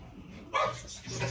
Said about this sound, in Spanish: Tienen pleito casado, oigan. Los perros de mis vecinos con los míos.